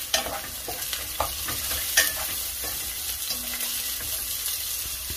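Onions browning in oil with ginger and garlic added hiss in a steady, close sizzle for a bottle gourd and prawn curry, broken by a few quick stirring scrapes, with no voices.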